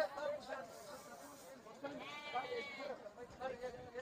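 Sheep bleat repeatedly at an outdoor tribal livestock market in Ethiopia, their wavering calls rising over a steady hubbub of crowd chatter and nearby voices.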